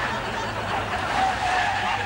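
A getaway car brakes hard and its tyres skid in a steady screech of tyre and road noise, loud and sustained.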